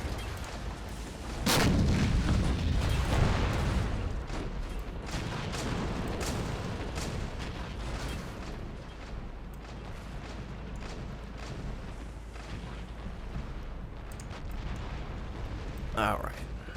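Artillery fire from a Red Rising mod battle in a Russian invasion of Germany scenario: a heavy boom near the start swells into a rolling rumble, followed by a steady din of distant battle noise and a sharper crack near the end, with talk over it.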